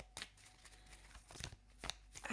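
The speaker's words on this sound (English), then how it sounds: "I picked up my animal cards and I've just been shuffling" A deck of animal cards being shuffled by hand, giving a few quiet riffling bursts spaced irregularly across a hushed room with light background hiss.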